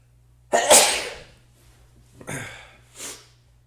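A single loud, sharp sneeze close by, followed by a couple of quieter sniffs and breaths.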